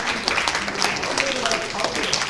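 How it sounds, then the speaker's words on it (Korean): An audience at an award ceremony claps in a burst of scattered, moderately loud hand claps lasting a couple of seconds. "여러분들 뜨거운 박수 부탁드리겠습니다."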